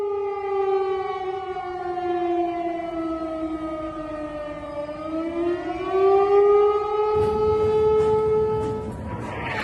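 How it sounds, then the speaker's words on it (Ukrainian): A wailing civil defense siren in Belgorod Oblast, Russia, warning of a missile threat, with harmonic tones slowly falling and rising, loud and sustained, joined near the end by rumbling noise. "на всій території Білгородської області взвилі сирени о ракетній опасності"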